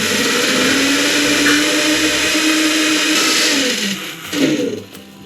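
Blender whirs steadily as it purees a kiwi, pineapple and spinach smoothie, a loud continuous motor drone holding for about four seconds before winding down and stopping.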